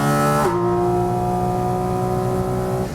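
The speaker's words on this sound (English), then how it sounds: "The instructor in your ears over the noise of the car, which is brutal." Porsche race car engine on a track, a loud steady drone heard from inside the cabin, holding a sustained tone after a brief shift in pitch near the start.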